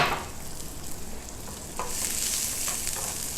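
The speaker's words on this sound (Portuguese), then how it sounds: "Refogo a cebola, um pouco de óleo." Onion sautéing in a little oil in a pan, a steady close sizzle and crackle with a brief stir partway through, no talking.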